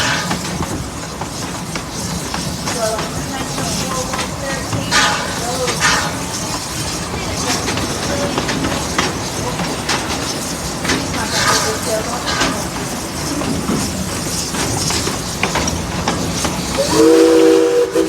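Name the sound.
steam train running on railroad with steam whistle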